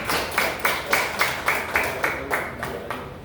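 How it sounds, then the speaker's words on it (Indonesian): Rhythmic clapping from a small audience applauding a speaker, about a dozen even, evenly spaced claps in unison, moderately near and gradually fading. "Coba kita beri aplaus dulu untuk Pak Haji."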